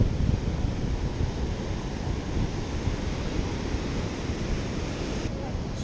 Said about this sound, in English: Surf is wild.